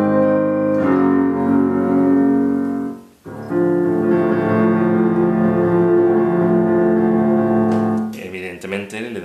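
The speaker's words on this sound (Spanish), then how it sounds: "vuelve a sonar el motivo de Scarpia" Orchestra plays the Scarpia motif from Puccini's Tosca, a tone lower than before and closing on a minor chord: sustained full chords with a brief dip near the middle, and a different sound breaks in at the very end.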